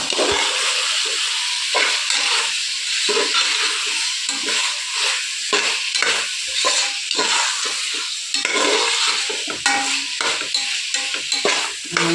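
Mushroom biryani masala sizzles and fries in a pan while a spoon stirs it, giving a steady hiss broken by repeated scraping strokes, heard close up.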